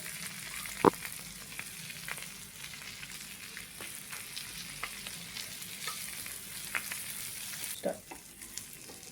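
Bangda mackerel frying in oil in a pan, a soft continuous sizzle with faint crackles and a couple of brief clinks or taps, fairly quiet and without talk.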